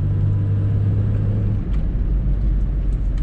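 Suzuki Swift hatchback on the move, heard from inside as a steady low road rumble and engine drone that shifts slightly partway through, continuous with no voices.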